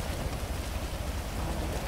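Steady rainfall in the GTA 5 game world hisses and patters on surfaces, an even, moderately loud wash of drops with no voices over it.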